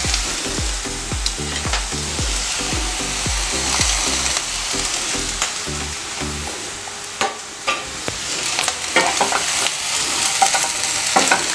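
Egg frying in a pan while being stirred into homemade spaghetti noodles, with loud sizzling and a quick run of rhythmic scraping strokes at first, then steady frying with scattered clinks from the utensil.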